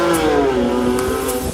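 Porsche 911 (996/997) with a Gundo exhaust modification, one loud close rev whose engine note climbs and falls over a second and a half, heard without any talking.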